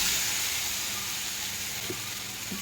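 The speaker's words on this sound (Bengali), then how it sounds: "এখানে আমার আদা রসুনটা মোটামুটি ভাজা হয়ে গেছে" Ginger and garlic fry in a pan, a steady close sizzle and hiss that holds evenly for a few seconds, with a faint clink near the end and no talking.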